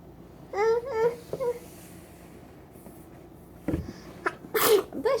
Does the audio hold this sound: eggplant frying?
no